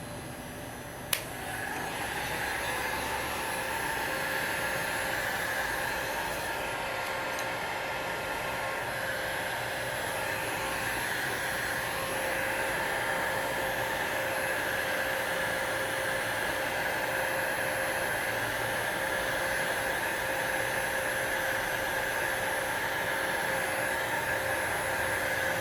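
A heat gun blowing hot air onto the back of a Samsung Galaxy S6 to soften its adhesive, a continuous, even whooshing hiss with a faint whine, held steady and close for the whole stretch with no voices.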